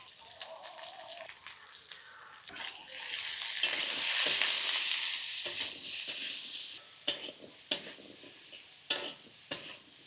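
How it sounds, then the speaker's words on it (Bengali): Vegetables with salt and turmeric sizzle in a pan, a soft frying hiss that swells midway, followed by several sharp scrapes and knocks as a spatula stirs them. "নুন হলুদ দিয়ে একটু নাড়াচাড়া করে নিয়ে"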